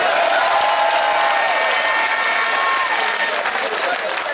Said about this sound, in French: Applaudissez-moi ces enseignants du secondaire.